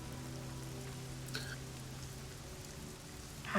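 Rain falls steadily in a tabletop fantasy game's story scene, a constant hiss under a low hum, with a brief brighter tone partway through and a louder burst near the end.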